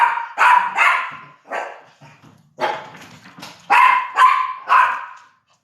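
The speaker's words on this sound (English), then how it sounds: "get ready for the dog to bark" A dog barks nearby in a loud, uneven series of about eight sharp barks, some in quick pairs, followed by a few softer grumbling sounds between bursts, with no voices over it.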